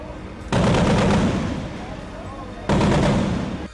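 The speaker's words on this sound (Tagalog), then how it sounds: "kabi-kabilang putok ng baril at armored personnel carrier ang nanggaling sa pamahalaan" Street combat during the Zamboanga standoff near MNLF positions, with government troops and armored personnel carriers: two long, loud bursts of rapid gunfire, close and dense, separated by a quieter stretch.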